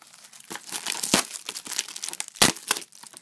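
A foil Panini FIFA 365 card packet pulled from a tin, producing close crinkling and rustling with a couple of sharper crackles, no voices.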